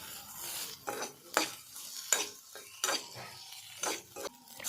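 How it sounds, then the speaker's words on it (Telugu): Chopped onion and five green chillies fry in oil in a pan, a quiet sizzle under a series of clinking spatula strokes against the metal at a steady pace, with no talking. "అందులో ఒకటి కట్ చేసి పెట్టుకున్న ఆనియన్ ముక్కలు, 5 పచ్చిమిర్చి ముక్కలను యాడ్ చేసుకొని 1 నిమిషం పాటు వేయించండి"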